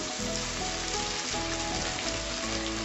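Ginger paste hitting hot oil with fried garlic in a pan, a steady dense sizzle like rain on a surface, continuous and fairly close, with faint low hum underneath.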